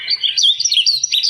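A finch-like bird call, recorded and played back, sounds as a quick run of high bright chirps and twittering notes, clear and close with no voices over it.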